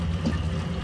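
Water pours into a cooking pot of aloo gobi, potatoes and cauliflower, on a dhaba-style stove, a brief, steady splashing fill under low kitchen noise.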